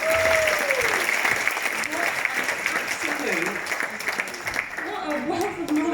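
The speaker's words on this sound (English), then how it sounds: "Round of applause for the ladies." An audience at a wellness talk gives the ladies on stage a sustained round of applause, dense and steady clapping with voices mixed in beneath it throughout.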